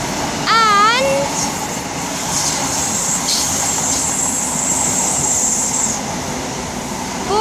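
A train led by locomotive 43308 rumbles past at Polmont, loud and close, with rolling wheel noise, a brief horn early on and high wheel squeal, while a voice is heard faintly beneath.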